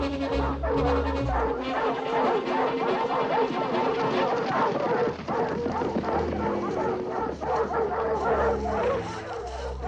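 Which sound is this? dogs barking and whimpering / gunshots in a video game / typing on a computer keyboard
dogs barking and whimpering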